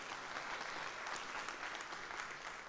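Conference audience at Abarca Forward 2024 applauding after a good-morning greeting, a dense, even wash of clapping held at steady loudness for the whole stretch, no distinct voices.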